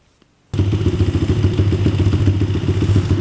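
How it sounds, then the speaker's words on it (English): A Honda CRF50 pit bike engine bursts into a steady, close, loud idle with a rapid chugging thump, running alone without talk. "So yeah, quick little shot of it running."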